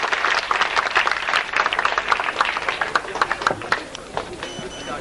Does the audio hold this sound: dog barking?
no